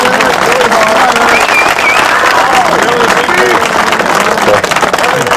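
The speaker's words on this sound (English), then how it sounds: "I want everybody to give a big round of applause to Eric Kasut and his staff." A loud round of applause and cheering for Eric Kasut and his staff at a drivers meeting, a dense close roar of clapping with whoops and voices mixed in, sustained throughout.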